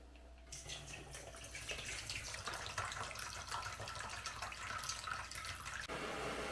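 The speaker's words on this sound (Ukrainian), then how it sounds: "І знову зільємо цю воду і вона вже нам не потрібна." Rinse water poured off cucumbers splashes steadily, a continuous wet rushing with small drips and clatters, fairly faint and with no voices.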